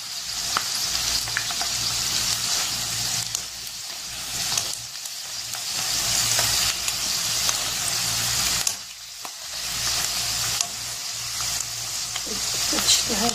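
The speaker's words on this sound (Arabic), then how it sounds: "حطيتها في الزيت بتبتدي بقى ايه تنشف عندي" Dough for homemade Egyptian flaky pastry sizzles and fries steadily in hot oil, a continuous bright crackling hiss with small pops, close and fairly loud, with no one talking.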